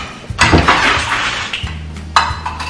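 A small bowl and spoon handled in a home kitchen, a few close ceramic clinks and scraping knocks of metal on dish, with a low hum underneath.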